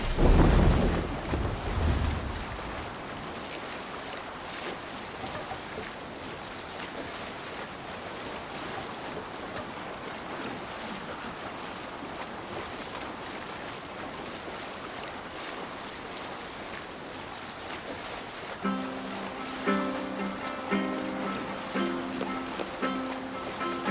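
A Viking longship sails the open sea in Assassin's Creed Valhalla, with steady waves and wind rushing past the hull and a louder splash at the start, then faint music rising near the end.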